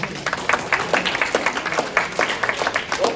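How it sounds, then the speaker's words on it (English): An audience at a brand storytelling talk claps together in a steady run of quick, close claps that lasts a few seconds. "Clap, clap, clap, clap, clap."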